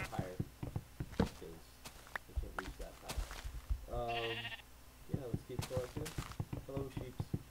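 Minecraft sheep bleat in a short burst of harmonic cries near the middle, set between blocky footsteps and thuds in a game world, with no talk over it.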